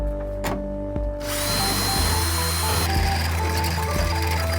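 A power drill bores holes through a metal bracket on a Hyundai convertible, running at a loud, steady whine close by. A brief stop comes early on, and the motor then revs on continuously under light grinding.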